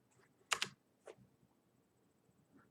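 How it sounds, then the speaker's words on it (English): Keyboard typing on a computer, heard as a short burst of a few close, quick clicks followed by one lone keystroke, with a quiet room between. "let's type in some random"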